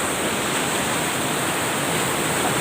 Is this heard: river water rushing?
yes